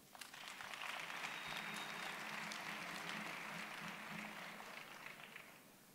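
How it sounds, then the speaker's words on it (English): An audience at a university engineering graduation ceremony applauds in a large hall, a broad sustained wash of clapping that swells and holds for several seconds, heard from some distance. "Graduates, may I request you to give them a big applause."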